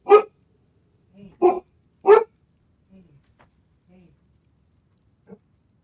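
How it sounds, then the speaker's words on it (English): A guard dog lets out three sharp, close barks in quick succession, then a few softer grunts and huffs trail off into quiet. "My guard dog, man."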